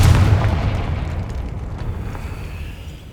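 Confringo fire spell blast from the Hogwarts Legacy game: a loud, deep boom bursts at once and then rolls off into a fading rumble, with no talk over it.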